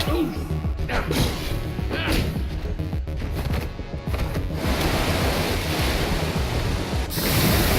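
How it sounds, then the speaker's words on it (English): A waterfall rushes in Minecraft Story Mode, a dense and continuous roar of falling water with splashy crashes and brief game sounds mixed in. "Waterfall!"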